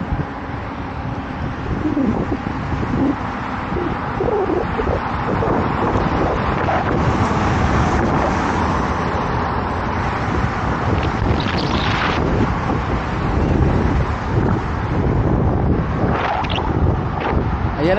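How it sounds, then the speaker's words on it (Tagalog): Wind buffets a helmet-mounted microphone on a mountain bike ride, a steady loud rumbling roar that fills the whole stretch with a few faint bird calls above it. "Ayan na naman ang hangin."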